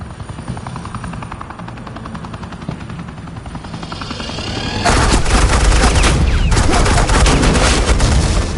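Helicopter rotor thumping steadily, then a loud sustained rattle of suppressing gunfire bursts in over it, dense and close, in a Batman video game scene.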